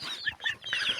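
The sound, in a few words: chickens clucking in garden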